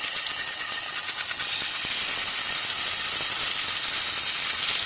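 Pieces of yam fry in hot oil in a pan, giving a loud, continuous hissing sizzle that stays bright and steady throughout, close up with no talking.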